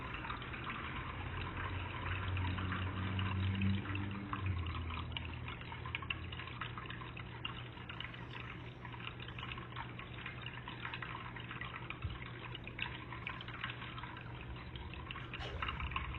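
A creek flows through a tunnel at Shenks Ferry Wildflower Preserve, a steady, enclosed rush and trickle of water with small dripping splashes, moderately faint and continuous throughout.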